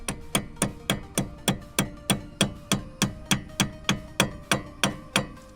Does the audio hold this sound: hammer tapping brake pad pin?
yes